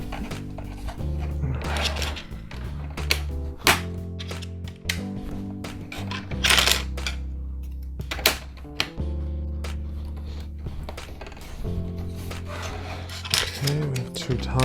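LEGO Star Wars pieces from a Kylo Ren's TIE Fighter set are handled and attached close up, with scattered plastic clicks and rubbing amid soft rustling and background music.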